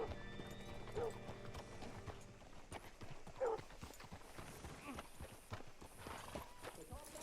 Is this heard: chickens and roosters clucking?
no